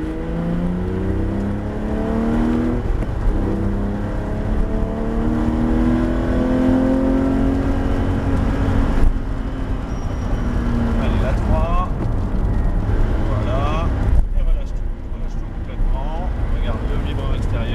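A Porsche GT3 RS accelerates on a wet Abbeville circuit, its engine rising steadily in pitch under an instructor's continuous coaching, with a brief shift dip mid-pull and more rising revs toward the end.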